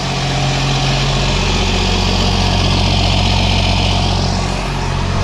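A 2nd-generation Cummins diesel truck engine idles loudly and steadily, a continuous deep low-end throb, close by and alone, with a slight shift in tone near the end.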